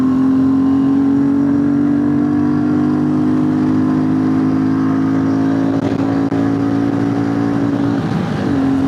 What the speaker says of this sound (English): That was the rev limiter there kicking in.